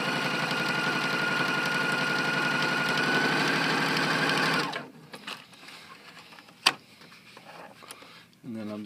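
A Pfaff Quilt Ambition 2.0 sewing machine stitches through heavy denim in a steady, loud, close whir for about four and a half seconds, then stops, leaving quieter handling noises and a sharp click.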